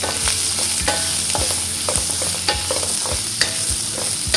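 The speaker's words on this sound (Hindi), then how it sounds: "एक मिनट इसको भी सौते कर लेंगे" Sliced onion and chopped red chilli sauté in a hot pan for kung pao chicken, giving a loud, continuous sizzle with a regular rhythm of spatula scrapes and taps against the pan, with no voices.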